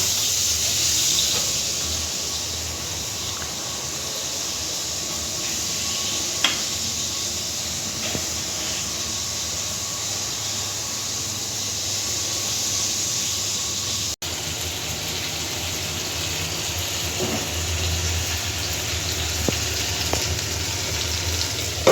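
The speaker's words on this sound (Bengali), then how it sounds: "এখানে মাছ ভাজি করে নিচ্ছি" Fish frying in a pan, a continuous steady hiss and sizzle of hot oil that stays even throughout with a few small pops, no talking.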